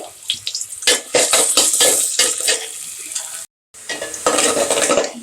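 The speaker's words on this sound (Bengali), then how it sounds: "পেঁয়াজটা একটু ভেজে দিন" Onions and garlic sizzle and crackle loudly in a hot pan, with repeated scraping stirs in bursts and a brief pause before the frying resumes.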